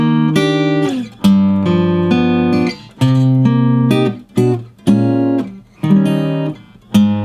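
A lone guitar plays the bridge of a song as a sequence of strummed chords, each struck cleanly and left ringing before the next, steady and close.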